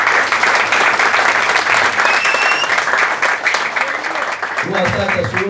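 An audience at an evening lecture breaks into steady, dense clapping for the event's organizer, continuing for several seconds, with a voice coming in near the end.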